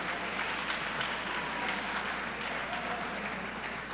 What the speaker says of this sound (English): You really deserve a round of applause and great recognition for your accomplishments.